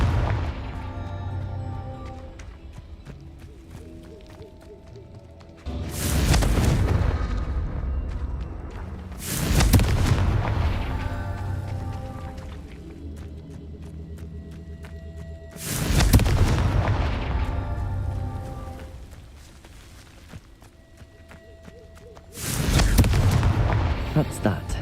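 Confringo spell explosions in the game Hogwarts Legacy, four loud booming blasts spaced several seconds apart, each with a sharp crack and a rumbling decay, over a low game soundtrack.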